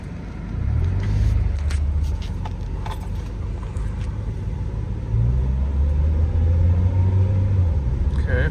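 A 2001 Honda Prelude pulls away on a road test after a major overhaul, its engine rumbling low and steady under cabin noise, with small interior clicks and rattles and a rise in engine drone partway through.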